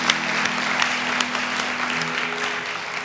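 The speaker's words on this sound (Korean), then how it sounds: "우리 분들에게 한번 뜨거운 격려의 박수 한번 해드리겠습니다." Church congregation applauding warmly together, a steady dense wash of clapping that holds for the whole few seconds without a break, with no speech over it.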